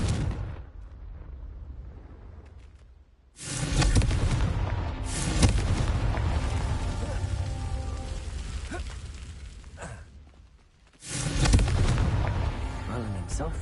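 In Hogwarts Legacy, a Confringo fire spell bursts twice, each time with a sudden loud blast followed by a long crackling, rumbling tail. Quieter ambience fills the gaps between the two explosions.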